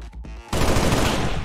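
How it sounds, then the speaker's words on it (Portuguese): Burst of gunfire from XCOM 2: War of the Chosen (Long War 2 mod), a sudden loud sustained volley of shots starting mid-clip and continuing steadily to the end after a quieter opening. "Eu vou arriscar dois tiros aqui"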